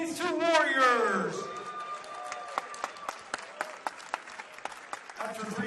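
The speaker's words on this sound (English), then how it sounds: "Round of applause for these two warriors." Crowd applause after a 155 lb kickboxing bout, scattered clapping following an announcer's amplified voice, with talk returning near the end.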